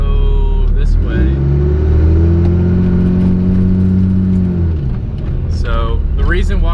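A turbocharged Cummins diesel truck tuned to about 600 horsepower drives along at steady, loud volume, its low engine drone rising and holding. Voices and a short burst of sound come in near the end.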